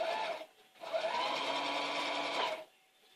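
A sewing machine runs a few stitches with no fabric under the needle: one short burst, a brief pause, then a longer steady whirring run, close and clear.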